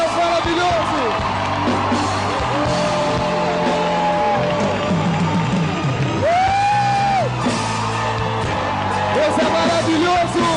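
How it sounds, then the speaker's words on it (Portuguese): A church congregation cheers and whoops loudly while people clap in worship, with voices shouting and calling over the sustained noise. "Vamos aplaudir o Senhor."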